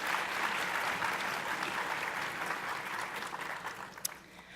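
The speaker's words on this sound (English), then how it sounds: "Let's give them a round of applause." Audience applause for the Bronx Arts Ensemble Band led by Greg Diamond after a performance at a public ceremony: steady, dense clapping from a crowd that holds fairly even, then tapers slightly, with one sharper clap near the end.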